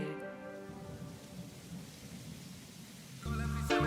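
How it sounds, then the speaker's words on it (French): Steady rain falls with a low rumble of thunder, continuous hiss filling the background while a sustained musical tone sits beneath, louder toward the end. "quand la pluie se met à tomber."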